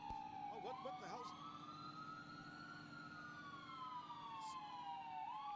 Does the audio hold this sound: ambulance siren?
yes